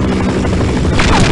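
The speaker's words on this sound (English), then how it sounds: "And the helicopter, of course, killed me." A helicopter in the Half-Life video game roars loud and close, its dense rotor chop and engine drone filling the whole moment with a brief whine near the end.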